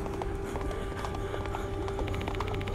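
Horse hooves galloping on a highway in the video game Spirit Hunter: Death Mark II, a quick steady clip-clop rhythm over a constant low drone, moderately loud and alone.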